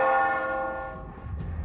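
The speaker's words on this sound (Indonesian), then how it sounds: "Itu bunyi lonceng gereja." A church bell rings once, a loud, clear strike whose rich tone hangs and slowly decays, heard nearby and alone with no voices over it.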